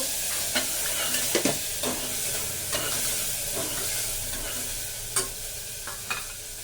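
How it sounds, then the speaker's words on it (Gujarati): Rice tempered with asafoetida is stirred in a pan, a steady sizzling hiss broken by intermittent scrapes and clinks of the spoon, close and alone with no voices. "એટલે આપણે આને સારી રીતે મિક્સ કરી લઈશું."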